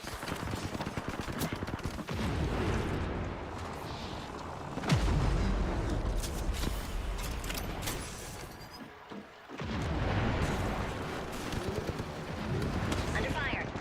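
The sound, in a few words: gunfire in a video game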